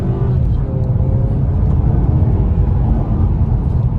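A 2023 Mazda 3 hatchback with the 2.5 engine and front-wheel drive accelerates in sport mode, heard from inside as a loud, steady engine and road drone throughout.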